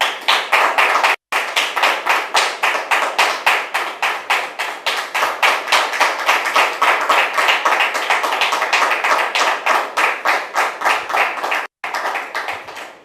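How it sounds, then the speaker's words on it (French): Studio audience on a French television talk show clapping in rhythmic unison to welcome a guest, a loud, fast, even beat that continues throughout with two brief dropouts. "Public, merci de la recevoir maintenant avec vos applaudissements."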